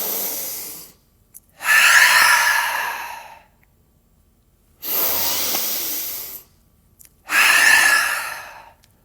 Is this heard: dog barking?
no